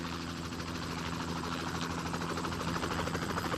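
A helicopter drones steadily with a dense, rumbling engine and rotor noise that stays fairly constant and moderately loud throughout, with no voices over it.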